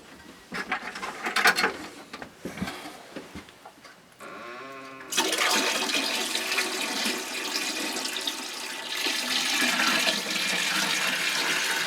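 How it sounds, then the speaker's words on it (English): A toilet flushing after filtered emergency water is poured into the tank: a faint trickle and clunk, then a loud, sustained rush of water swirling and draining, close by. "Now the toilet will flush."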